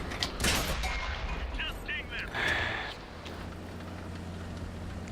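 Artillery fire in the World of Tanks video game: a few distant booming shots and crackling impacts with metallic pings, heard close together under the game's steady engine rumble.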